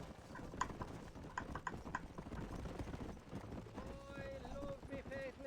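Galloping horse hooves in the Red Dead video game, a rapid rhythmic clip-clop at moderate volume, joined by music and tonal in-game sounds toward the end.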